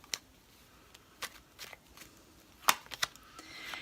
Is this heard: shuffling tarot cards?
yes